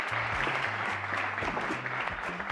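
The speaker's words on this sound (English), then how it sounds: "An applause for Carlos and Maria and all the information" Summit audience giving a short burst of applause, fairly soft and distant, with faint low voices underneath.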